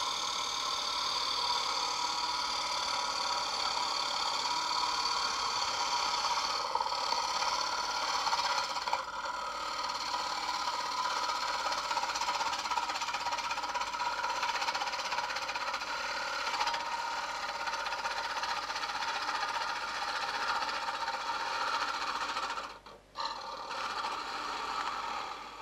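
A wood lathe turning a bowl, a continuous steady motor hum with gouge cutting noise, close and even throughout with a brief dip near the end.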